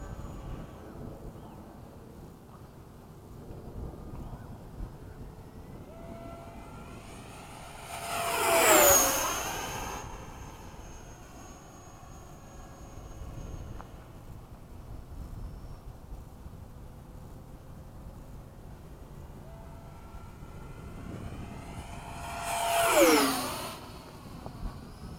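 A FMS Hawk 80mm electric ducted-fan model jet makes two fast passes, each a rising then falling jet whoosh as it sweeps close by, with quieter background noise between passes.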